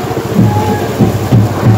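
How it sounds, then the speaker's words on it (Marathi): Heavy monsoon rain pours down steadily and loudly outside a Ganpati temple in Wadala during a Dahi Handi Govinda team practice, with a dense continuous roar and low rumbling underneath. "अक्षरशः धो धो पाऊस पडतोय"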